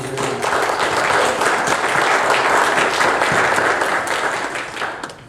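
Loud, sustained applause from a crowd at a village board meeting, dense clapping that swells quickly and holds steady before tapering off at the end.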